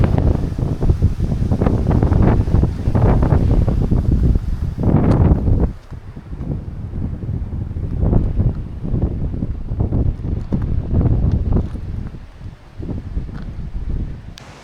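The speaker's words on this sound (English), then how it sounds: "the wind's strong already, as you can see in the trees behind me" Strong 40-50 mph wind buffeting a mountainside near trees, a loud continuous roaring rush with heavy gusts and mic-battering bursts that ease briefly before surging again.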